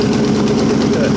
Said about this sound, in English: I'm also only running at about 600 RPM here.